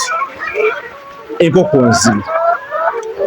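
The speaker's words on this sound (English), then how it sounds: "Layer chickens, this one, commercial layers in Zibu." Commercial layer chickens clucking nearby, a flock of hens with overlapping calls and a louder burst of squawking in the middle, continuing throughout.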